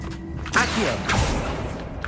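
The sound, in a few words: Accio summoning spell cast in video game Hogwarts Legacy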